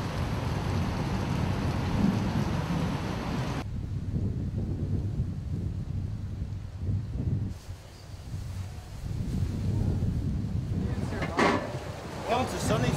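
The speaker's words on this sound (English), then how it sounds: "I've never seen this much rain before" A heavy Florida downpour roars steadily as a dense hiss of rain pounding surfaces, with low rumbles and wind buffeting, while people talk intermittently over it.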